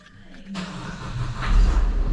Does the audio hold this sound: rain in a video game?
no